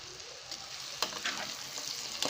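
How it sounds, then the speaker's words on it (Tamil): Spiced masala and chopped pumpkin sauté in a pan for a tamarind curry, giving a steady, soft sizzle with faint stirring scrapes and no talking. "மசாலாலாம் பச்சை வாடை போகிற அளவுக்கு இது நல்லா வதக்கியாச்சு."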